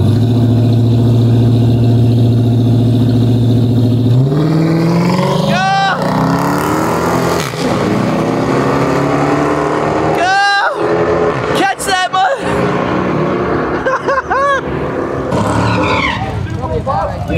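A Ford Raptor truck at a drag race. The engine drones loudly, rises sharply in a rev, then roars and whines with tire noise through repeated surges, while voices carry in the background.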